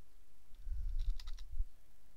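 A few keystrokes on a computer keyboard tapped out in a short, quiet burst of clicks, with a soft low thump around each press and no voices.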